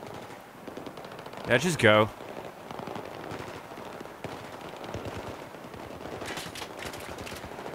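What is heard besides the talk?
gunfire in video game Battlefield 3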